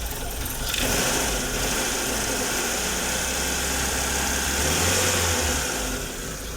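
A Mitsubishi Lancer with a carbureted 4G13/4G15 engine idles steadily during cold-start adjustment, a close, rough mid-pitched rumble with a brief rise in revs near the five-second mark.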